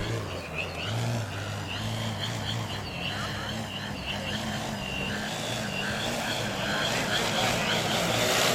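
A brushless 14s Extreme Flight Edge RC plane flies at a competition, its steady electric motor whine holding throughout over a low constant rumble, with a voice talking underneath.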